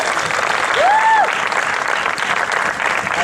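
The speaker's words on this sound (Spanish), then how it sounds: "Un aplauso para ella." Audience applause for storyteller Magdalena Labarga at an international storytelling festival, a loud, dense, steady crowd clapping close by, with a brief whistle-like tone partway through.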